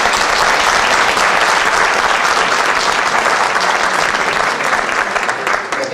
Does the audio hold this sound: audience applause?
yes